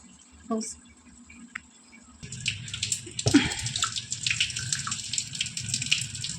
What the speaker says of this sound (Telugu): సో వాటర్ మొత్తం డ్రైన్ చేశాను